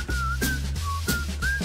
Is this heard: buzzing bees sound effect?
no